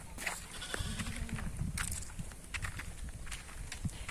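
Goats bleat and call repeatedly in a goat pen on a farm, several overlapping cries close by, with shuffling hooves and footsteps underneath.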